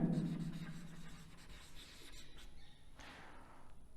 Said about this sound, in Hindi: यहां लिख देता हूं मैं आगे